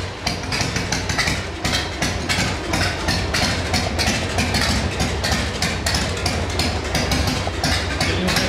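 Motorcycle engine fitted with an HD CV carburetor running steadily at around 10,000 rpm, a loud, continuous, even mechanical drone with rapid rhythmic ticking throughout and no voices.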